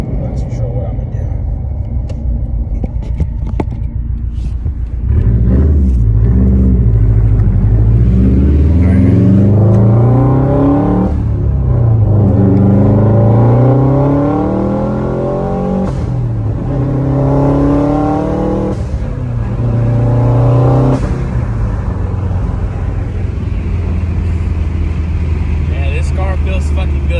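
Subaru WRX engine revving hard while driving on a road, a deep rumbling exhaust climbing through several long pulls with gear changes in between, loud and close; someone talks over parts of it.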